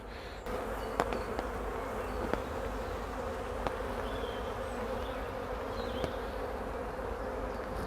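A dense, steady hum of many honey bees buzzing close by on a hive frame, continuous throughout with a few faint clicks.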